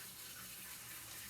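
A sink tap runs steadily while something is rinsed out in a home kitchen during soup making, giving a brief, even rush of water heard alone.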